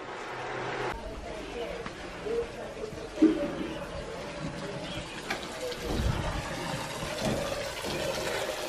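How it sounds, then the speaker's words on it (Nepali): Water runs steadily into a tank at a home in Dang Deukhuri during Dashain, a moderate continuous gush over a low motor or pump hum with scattered background noise. "ट्याङ्कीमा पानी भर्यो"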